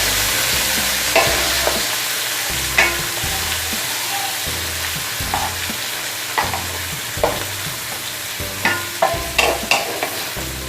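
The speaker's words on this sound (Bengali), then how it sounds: "পেঁয়াজটা একটু ভালো করে লাল করে ভেজে নেবেন" Onions sizzle and fry in oil, with a steady spitting hiss broken by repeated scraping stirs of a spatula against the pan at an uneven rhythm.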